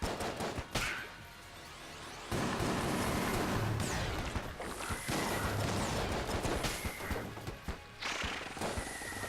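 Rapid bursts of exploding bullets in the Enter the Gungeon video game, a steady loud crackling barrage with brief drops and sharp onsets, with no talk over it.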